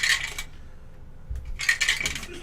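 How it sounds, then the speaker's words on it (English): Borrowed dice are rolled across a table during a tabletop game session: a short clattering rattle, a pause, then a longer second burst of tumbling clicks. Close, with no speech over it. "it's those dice that we borrowed the other day."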